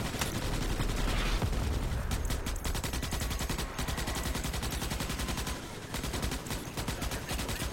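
Rapid automatic gunfire from weapons in the Starship Troopers: Extermination video game, a loud continuous burst of shots with sustained rattling over the whole stretch, briefly thinning near the middle before resuming.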